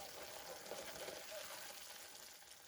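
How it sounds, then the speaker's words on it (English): Cream poured into hot homemade caramel sauce and stirred, making a steady, close hissing bubble that holds evenly throughout. "Now we're gonna add a little bit of cream. And mix it together."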